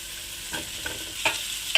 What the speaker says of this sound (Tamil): நல்லா மிக்ஸ் பண்ணி விட்டுடலாம் நல்லா மிக்ஸ் பண்ணியாச்சு